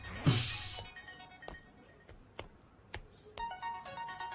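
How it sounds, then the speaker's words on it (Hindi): A mobile phone rings indoors after a sharp clattering burst, its bright electronic tone sounding faintly in short repeated bursts toward the end, with no talking. "मेरा फोन बज रहा है"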